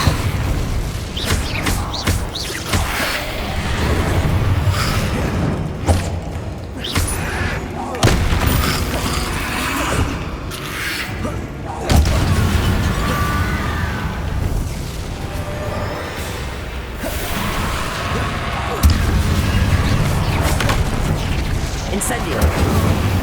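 Incendio fire spells cast in Hogwarts Legacy: repeated booming fiery bursts and crackling whooshes, loud and close, recurring every few seconds across a busy battle soundscape, with talk occasionally over them.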